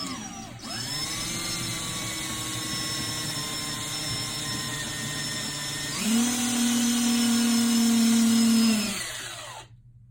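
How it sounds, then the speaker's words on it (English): A power drill bores out rivets from an exit window frame being converted to a crank-out window. Its sustained whine holds close and steady, then drops in pitch and grows louder midway before stopping abruptly near the end. "Next thing I need to do is take the rivets out."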